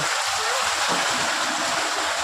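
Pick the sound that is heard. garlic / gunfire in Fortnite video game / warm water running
warm water running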